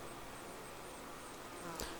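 Honeybees buzzing around hives in an apiary, a faint, continuous drone of many wings with a brief louder pass near the end.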